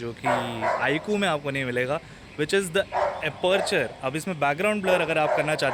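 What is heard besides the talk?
dog barking in the background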